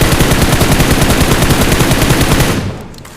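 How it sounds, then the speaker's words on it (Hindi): Loud, sustained automatic M4 rifle spray in a first-person shooter video game: a rapid, even stream of shots lasting over two seconds before cutting off, leaving a fading tail. "एक M4 का स्प्रे चलता है और उसमें एक बंदा निपट जाता है"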